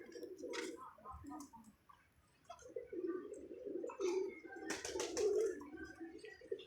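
Pigeons coo in low, throaty, rolling calls close by, mixed with some rustling and a sharper burst midway, with someone talking faintly at times.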